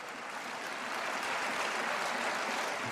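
A crowd claps steadily throughout a short excerpt, with a continuous wash of applause at moderate, even loudness and no talking over it.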